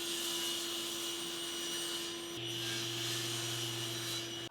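Cherry side pieces for a chisel rack being cut to length, with a steady broadband machine-like hiss and a constant low hum running throughout, loud and continuous with no pauses.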